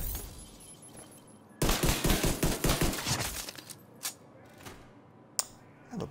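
Pistol fire with shock ammo in the shooter game The Division 2: a rapid burst of loud, close shots over roughly two seconds, then a few isolated cracks and impacts against low ambient game noise.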